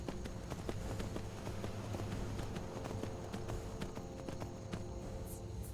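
Horse hooves clop steadily on a road in the virtual reality game Skyrim VR, a regular rhythmic beat that runs throughout over low ambient game sound.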